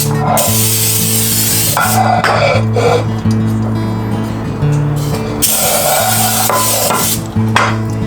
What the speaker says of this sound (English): spray it real good with the non-stick spray